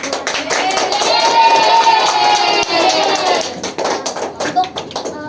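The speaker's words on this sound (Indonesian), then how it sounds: "Berikan tepuk tangan untuk" A group of students claps in a classroom during a science lesson: brisk, uneven hand clapping with sharp individual taps, and voices talking over it in places.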